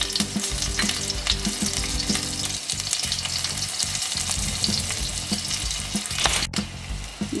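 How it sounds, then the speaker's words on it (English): A few small chilies fry in heated oil with no mustard or cumin, giving a steady, close, dense sizzle and crackle that fills the whole stretch without any talk. "When the oil has been heated up, put chilies."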